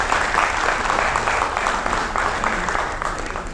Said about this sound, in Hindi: मैं चाहता हूँ कि पुरजोर तालियों के साथ मेरे डाइस के इस पहले शायर का इस्तकबाल हो